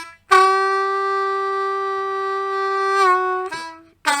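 A blues harmonica plays a blues riff: one long, steady sustained note for about three seconds, then a short bent note and a brief final stab, loud and close with no talking.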